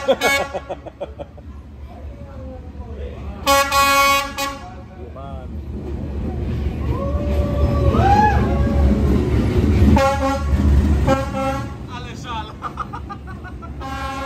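A lone locomotive without cars rumbles past, building to a loud roar, with horn toots near the start and again later; voices talk over the passing noise.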